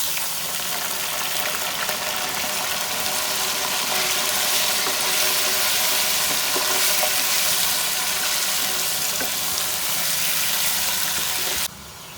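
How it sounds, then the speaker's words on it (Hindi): Pieces of mutton sizzle loudly in a pan of fried onions for bhuna gosht, a dense continuous hiss and crackle that holds steady, then drops abruptly near the end. "प्याज फ्राई हो गई है, इसमें गोश्त डाल देते हैं"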